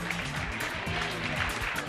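Applause for a young under-18 volleyball team at a Bononia club gathering, a dense steady patter of many hands clapping throughout, with faint voices mixed in underneath.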